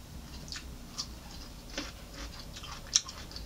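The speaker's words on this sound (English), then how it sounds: "So I'm going to try me a cucumber. Cucumbers dipped in ranch" Someone chews a crunchy cucumber dipped in ranch up close, several soft crisp bites and munching sounds, quiet and intermittent with no talking.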